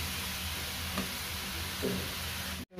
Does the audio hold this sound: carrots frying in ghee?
yes